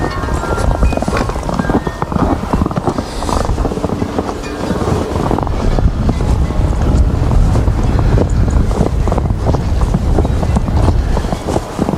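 Outdoor wind buffeting a microphone, a loud, continuous rumbling roar with gusty surges throughout and no clear talk.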